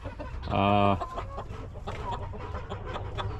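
Black Ameraucana chickens in a pen give one loud, close squawk, and softer clucking and background farm noise follow it.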